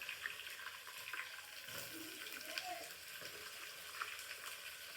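Onions and green chillies fry in oil in a pan for a beans palya, giving a soft, continuous sizzle with faint stirring scrapes. Fairly quiet and even throughout.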